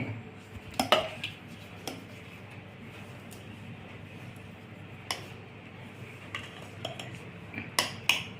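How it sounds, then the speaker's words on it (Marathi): A spoon clinks and scrapes against a bowl while uttapam batter of wheat flour and semolina is mixed with curd, with a quiet wet squish under the scattered metallic taps. "दह्यामुळं त्याला खूप छान चव येते. नंतर व्यवस्थित कालवून घेणे."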